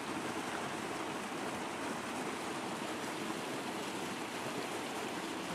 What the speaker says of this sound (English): If the water rushes down the stream.